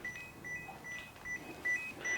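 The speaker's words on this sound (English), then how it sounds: "It's beeping to tell me that I've left the key in it" Short, high electronic beeps from a Citroën C5 key-left-in warning repeat in an uneven pattern, fairly faint against a quiet background.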